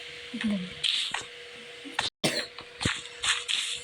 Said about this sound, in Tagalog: Sige, umubo ka.